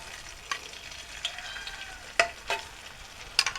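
Oil crackles in a hot pan with a soft, steady sizzle, punctuated by a few sharp pops and utensil clinks, close by and fairly quiet.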